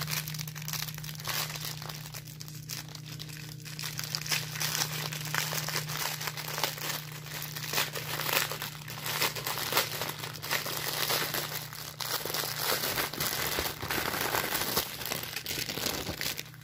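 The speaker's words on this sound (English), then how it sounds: "if y'all can mute it if you don't want to hear the crinkle again" Staroar diamond painting kit packaging crinkles and crackles continuously up close, a steady rustling texture with a low hum underneath.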